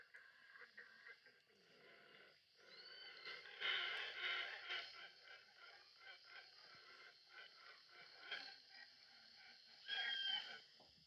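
A hoatzin, the stink bird, gives harsh, wheezing, grunting calls in repeated bursts, faint and distant, with the louder bouts spread through the stretch.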